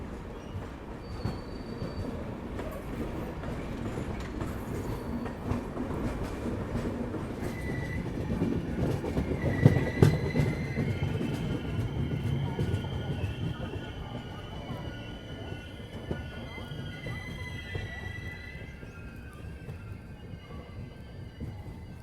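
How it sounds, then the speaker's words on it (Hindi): A freight train rolls past on an Indian rail line: a continuous low rumble and clatter of wagons that swells near the middle, with high metallic wheel squeals ringing out in the later part. "मालगाड़ी का मूवमेंट तो यहाँ लगातार चलता रहता है।"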